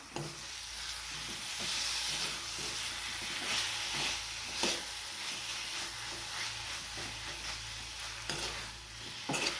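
A spoon stirs a fenugreek greens curry with chopped apple in a pan, giving a steady soft sizzle and hiss with faint scraping strokes throughout.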